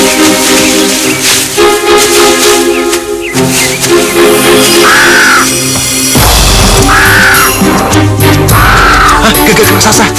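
A giant crow caws in a fantasy drama scene, with harsh repeated calls heard loud over dense music and hissing effects.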